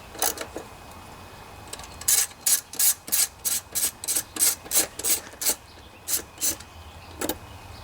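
A ratchet with a 10mm socket backs out fuel tank bolts on a 2002 Honda XR 400R, about a dozen quick, even rasping clicks in a steady rhythm, close up with a few scattered clicks before and after, no talking.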